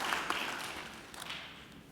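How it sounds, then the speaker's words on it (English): Faint applause from a university graduation audience in a ceremony hall, soft scattered clapping that thins out toward the end. "Vicky deserves another great round of applause for giving up her time to be with us today"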